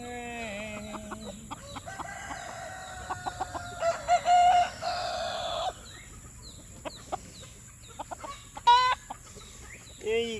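Homestead chickens cluck and a rooster crows nearby in a free-ranging backyard flock, several birds calling in overlapping bursts over a quiet outdoor background.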